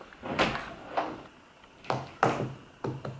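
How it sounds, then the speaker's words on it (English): A room door is handled and shut, giving several close wooden knocks and thuds spaced irregularly, a couple of louder clunks near the end, with no talk over them. "So I'm gonna go ahead and close this door and leave my phone outside of my room."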